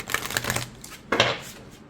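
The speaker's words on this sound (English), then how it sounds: "I do ripple shuffle all of my decks, gilded or not gilded." Oracle-size cards with gilded edges are ripple shuffled: two quick papery riffling bursts, the first a flutter of rapid clicks and the second a short bridging swish, heard close and fairly quiet.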